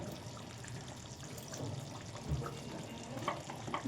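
Mutton rezala stirred in a pot: quiet, continuous sizzle with soft scraping and a few bumps of the spoon, fairly close.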